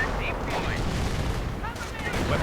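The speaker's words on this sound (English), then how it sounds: "there we go, artillery against the American anti-tank positions. Quite a lot of artillery." An artillery barrage booms in a World War II strategy video game against anti-tank positions, a dense rumbling roll of overlapping explosions and gunfire, loud and continuous, with a commentator's voice mixed in.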